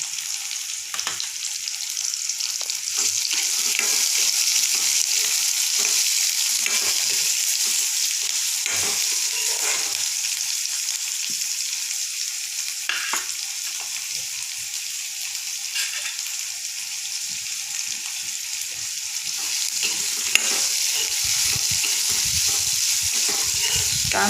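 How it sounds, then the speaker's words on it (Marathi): Finely chopped onion sautés in a pan, giving a steady close sizzle and hiss throughout, broken by repeated scrapes and clicks of stirring and no voices. "कांद्याला आता आपल्याला गुलाबी रंग येईपर्यंत परतून घ्यायचा आहे"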